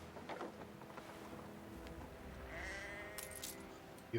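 Sheep bleat faintly at a sheep farm in the city-building game Anno 1800. The soft, distant bleats sit under low ambient game sounds, with no one talking.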